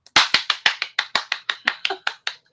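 About a dozen sharp, evenly spaced hand claps ring out up close, a steady rhythmic clapping by people at a tabletop game night, with no talk.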